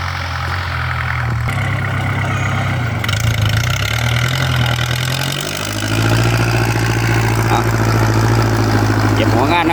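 A Kubota L5018 tractor engine idles with a deep, steady throb, then revs up to a louder, harder drone partway through, heard close by while someone talks over it.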